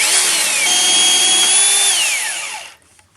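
A cheap $5 power drill drives screws into pilot holes in an oak deck, one loud sustained whine that holds steady, then drops in pitch and winds down to stop near the end.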